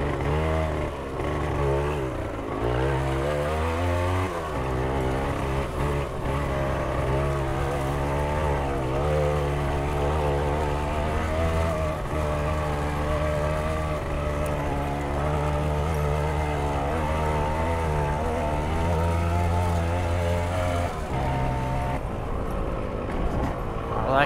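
A 1978 Yamaha DT175 trials motorcycle being ridden; a steady two-stroke engine drone runs throughout with small shifts in pitch as the throttle varies, close and continuous.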